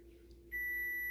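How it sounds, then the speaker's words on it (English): A kitchen timer starts a steady electronic beep partway through, clear and continuous against a quiet room hum while pumpkin spice syrup is being made. "So the timer's going to go off in just a second."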